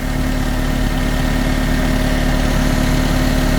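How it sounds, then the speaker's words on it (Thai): A Caterpillar 320D2 GC excavator's four-cylinder diesel engine idles loudly and steadily up close, a constant low rumbling drone with a vibrating hum and no variation. "เป็นเครื่องยนต์4สูบนะครับ"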